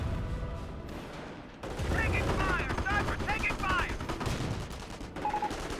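Firestorm artillery barrage in Company of Heroes 1 during a 2v2 match on Ducla: rolling booms and crackling gunfire fill the battle, with commentators talking over it throughout.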